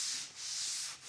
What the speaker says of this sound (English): We want to gently sand that out.